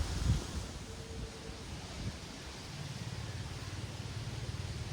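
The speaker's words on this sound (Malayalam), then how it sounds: "നല്ല കാറ്റുണ്ട്." Strong wind blows outdoors at a waterside spot where pearlspot fishing is under way, a broad, steady rush with gusty buffeting of the microphone and no talk.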